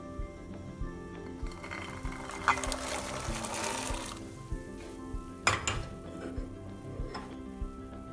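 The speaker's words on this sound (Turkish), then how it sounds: "E, bunu kaynamış suya döküyorum." Borlotti beans poured into boiling water in a pot, a rattling clatter of beans striking metal and water with scattered ticks and clinks, close and fairly quiet.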